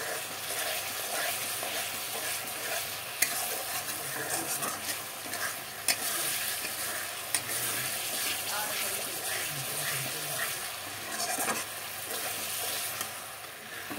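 Vegetables, fried earlier, being stirred and cooked down with masala for a potato vegetarian curry, a steady sizzle running throughout with scraping stirs and a few sharp clinks of the spoon against the pan.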